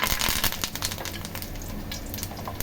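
Dense crackling sizzle of curry leaves dropped into hot oil, loud and continuous with sharp spitting pops throughout.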